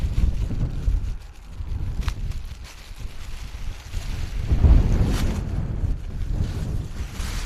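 Wind blows outdoors at an airport, a loud, gusty rumble that buffets the microphone. It swells and eases over the whole stretch, with no voices.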